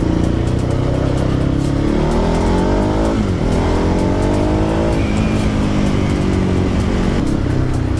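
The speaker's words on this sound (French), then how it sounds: "je suis sur la petite moto en train de l'essayer" A small motorcycle on a test ride revs hard through rising and falling gear sweeps, loud and close with continuous engine roar and wind noise, no speech.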